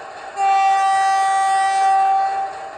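Air horn on a model railway locomotive's sound system, one sustained steady blast of about two seconds, loud and clear, ending abruptly.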